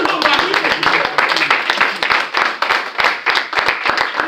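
A church congregation claps hands in rhythm as an offering of applause, a steady, fast run of loud, sharp claps that fills the whole stretch, with voices mixed in among the crowd.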